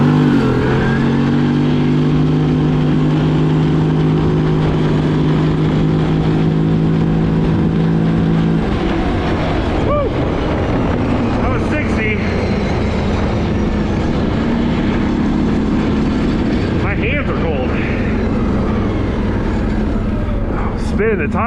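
A 2008 Arctic Cat Thundercat 1000cc ATV revving hard as it takes off with tires spinning, the engine note climbing loud and close, then settling into a steady roar down the road.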